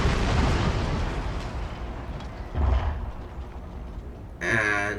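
Rumbling cannon blasts from a naval salvo in Total War: Shogun 2 – Fall of the Samurai, a heavy boom at the start and a second burst midway, ending in a sharper ringing crack.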